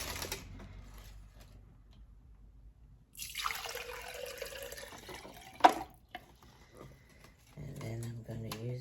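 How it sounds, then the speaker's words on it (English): Water pours into candle holders in a short burst of a few seconds, followed by a brief splash and a few small clinks and drips. Quiet talking can be heard around the pouring. "So now I'm gonna fill these with water."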